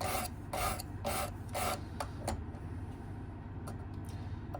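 Knife blade drawn along the abrasive of a Work Sharp Precision Adjust sharpener, a series of short, regular raspy strokes followed by lighter ticking scrapes, close and fairly quiet with no voices.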